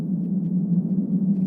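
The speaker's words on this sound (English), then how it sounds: "That's the sound of magma, molten rock, bubbling away beneath the town of Grindavik" Magma from an Icelandic volcano churns beneath the ground near the town of Grindavik, heard as a continuous deep, low rumble with a steady throbbing hum and no voices.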